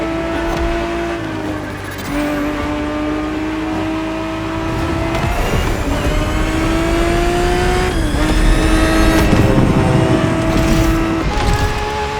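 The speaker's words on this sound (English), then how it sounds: "365 GTB4 is the perfect vehicle for you to experience Ferrari racing as it felt back in the 70s" A 1970s Ferrari 365 GTB4 races in The Crew Motorfest, its engine revving steadily and loud, pitch climbing and dropping through gear shifts with occasional tyre noise, close and continuous with no talk.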